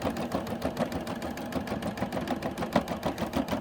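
A Quantum XL-100 embroidery machine starts sewing, giving a steady fast mechanical whir with a rapid needle rhythm. It runs continuously at close range and moderate loudness, with no talk over it.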